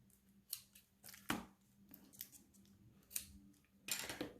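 Scissors snip thread on a handmade tea bag holder, giving several quiet, sharp snips at irregular intervals, close by in a quiet room.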